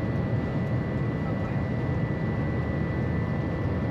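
An airplane passes overhead as a steady, broad roar with a faint constant tone, filling the whole moment without clear rise or fall.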